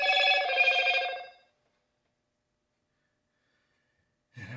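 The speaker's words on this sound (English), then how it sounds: "Maybe that was the phone just chiming." A phone chime sounds once, a bright ringing tone lasting about a second before fading into silence.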